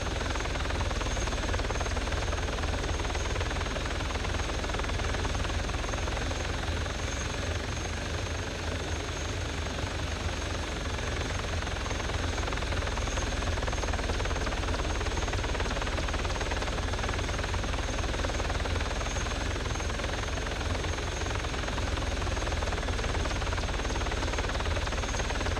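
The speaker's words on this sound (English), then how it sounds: "let me check those other choppers, see if those are still there" Helicopters in a video game keep up a constant rotor and engine drone, a dense, unbroken wash of sound that stays at an even loudness throughout, with no one talking.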